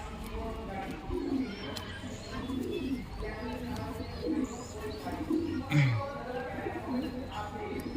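Loft pigeons coo close by in a series of low throaty calls among occasional chirps, with someone talking over them.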